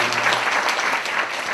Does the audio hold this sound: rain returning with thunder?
no